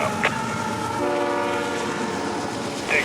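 A CSX freight train rolls past on the line near Orlando, Florida, with a steady rumble and a sustained low horn blast midway, brief sharper bursts near the start and end, close and fairly loud.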